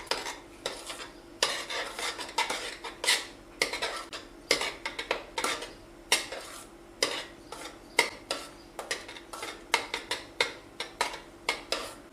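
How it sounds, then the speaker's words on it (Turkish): A spoon stirs a magnolia dessert mixture in a pot after vanilla is added, scraping and clinking against the metal in a steady, rhythmic pattern, close and fairly loud, with no talking. "Daha sonra karıştıralım."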